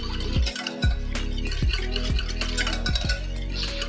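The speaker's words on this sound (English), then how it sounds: "I'm going to whisk this until it's well mixed" Coconut milk and other wet ingredients for crunchy banana snacks being whisked in a bowl, a steady run of quick rhythmic clinks and liquid swishes heard close and alone.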